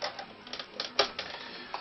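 Cables are pulled out of a ZX Spectrum +3 home computer, giving a few short plastic clicks and a sharper snap near the middle, quiet and close with no talk.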